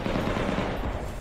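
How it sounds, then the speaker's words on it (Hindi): Gunfire and explosions in urban street fighting in a Ukrainian city during the Russia-Ukraine war, a dense continuous roar of rapid shots and blasts, loud and unbroken throughout with no talk. "वहां शहर के भीतर हर तरफ बमों के धमाके और गोलियों की तड़तड़ाहट सुनाई दी।"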